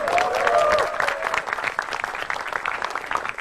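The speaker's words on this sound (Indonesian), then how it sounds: "Tepuk tangan lagi dong." Studio audience at a televised stand-up comedy show claps in a loud, dense burst of applause that tapers slightly but keeps going through the whole stretch, with some crowd voices mixed in.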